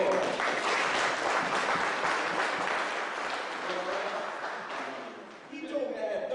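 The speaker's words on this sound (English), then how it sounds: "Round of applause." An audience at a fundraising dinner honoring an imam applauds, dense steady clapping filling the room for several seconds before thinning out, with a voice briefly audible near the end.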